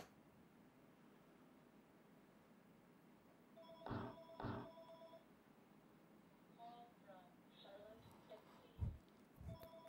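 Two short bursts of a telephone bell ring out clearly over a low background hum, followed by a few faint clicks and thumps; no talking.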